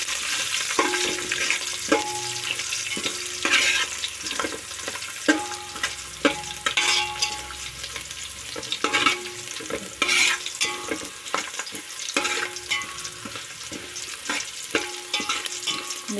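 Red chillies and garlic cloves are stirred in a pan, with a steady frying hiss under repeated scraping and clinking strokes of the spoon, close up and without talk.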